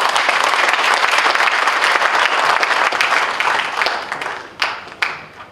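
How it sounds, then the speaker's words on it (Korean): An audience at a business school alumni lecture claps loudly to welcome a party leader to the podium. The applause is dense and sustained, then thins into a few scattered final claps. "유승민 대표님을 큰 박수로 맞이해주시기 바랍니다"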